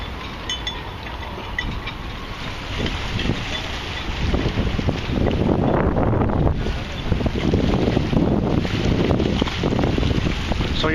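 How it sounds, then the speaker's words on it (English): Wind blows steadily through a harbor full of moored boats, a broad rushing roar with faint whistling tones that builds louder after the first few seconds, alone with no talk. "If you hear a whistling noise, I think that's the wind blowing through all these boats."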